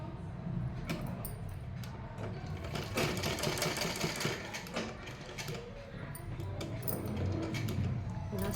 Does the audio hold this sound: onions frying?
no